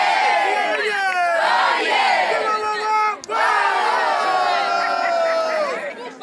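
Blue House members celebrating a win by cheering for themselves: loud, overlapping shouts and whoops from a close crowd, dipping briefly in the middle before surging again, with clapping mostly buried under the voices.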